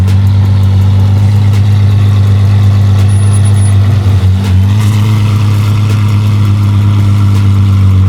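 An Apollo IE hypercar engine runs loud and steady close by, a deep sustained drone with a brief dip and swell midway, with no voices over it.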